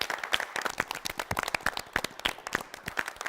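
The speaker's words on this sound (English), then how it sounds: "Let's give him a round of applause." Scattered applause from a small audience greeting a guest judge at a quiz show semifinal, with irregular sharp claps that are fairly quiet and sparse and no talk over them.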